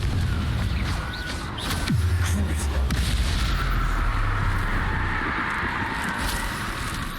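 Confringo blasting curse explosions in Hogwarts Legacy, with dense booming blasts and rumbling impacts over continuous battle noise, several heavy hits in quick succession.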